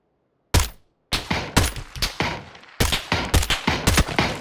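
Gunfire in the video game PUBG: an isolated sharp shot, then a rapid series of loud, close cracking shots in irregular bursts with short decays, with no talk.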